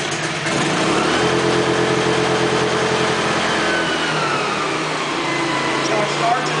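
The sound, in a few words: generator starting up at high idle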